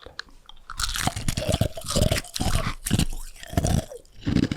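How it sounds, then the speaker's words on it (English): Loud, close crunching of ice being chewed right against the microphone, a rapid series of crisp crackling bites with short pauses between them. "Just crunch it right on the mic."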